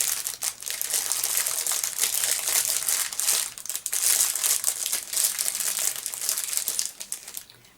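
Continuous crinkling of a plastic packaging bag holding jewelry, loud and close, with rustling bursts and brief pauses throughout.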